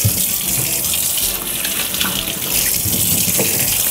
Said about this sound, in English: soak them repeatedly several times in cold water until the water is sand-free